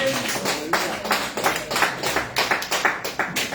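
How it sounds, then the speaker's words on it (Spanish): A church congregation claps during a worship service, a fairly loud, slightly uneven rhythm of many hands that swells into a steady pulse, with no voices over it. "Dele esa fuerte ofrenda de aplausos al Rey de Reyes y Señor de Señores."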